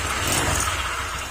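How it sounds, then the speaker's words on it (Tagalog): A Honda Click 150 motorcycle engine running steadily up close with a harsh knocking noise, a continuous loud mechanical drone with no talk. "At yan yung tunog ng makina. Ang sagwa ng tunog ng makina."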